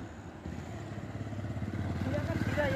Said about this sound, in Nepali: अर्को विशाल भाइ आउँदैछन् बाइकमा